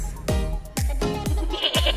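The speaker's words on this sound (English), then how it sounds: "Oh, look at the goats." Several sharp bleats from goats at a beach, close by, coming in quick succession with steady outdoor background noise between them.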